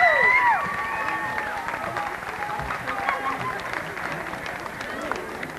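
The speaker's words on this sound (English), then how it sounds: "let's give a round of applause to our families" Audience applause and cheering at a choir concert on the Stevenson stage, a dense crowd roar that swells loudly at the start then settles into steady clapping with scattered shouts throughout.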